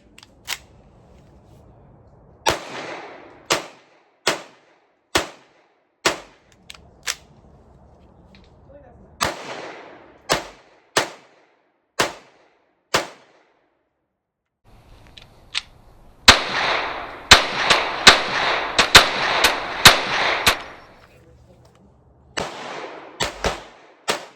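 CP33 pistols fire on an outdoor range, with sharp, loud single shots at irregular intervals, then a quick cluster of rapid shots, followed by a few more spaced reports.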